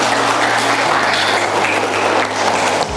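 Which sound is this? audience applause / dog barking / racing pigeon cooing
audience applause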